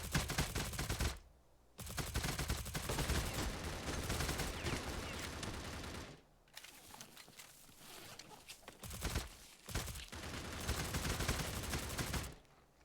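A SIG SG 550 rifle in a video game fired at a target 50 meters away, loud sustained bursts of rapid gunfire broken by short pauses, with a few brief quieter gaps between strings of shots.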